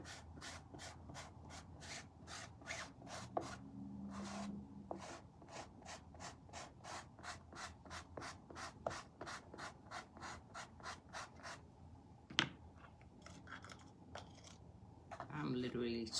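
Utensil scraping the bottom of a nearly empty tub, a quick train of rapid rhythmic scrapes, close and fairly soft, running steadily with a brief pause and a few louder knocks near the end.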